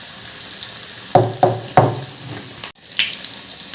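Battered chilies frying in hot oil over a low-to-medium gas flame, with a steady sizzle broken by three sharp pops close together, then a brief drop and a renewed hiss.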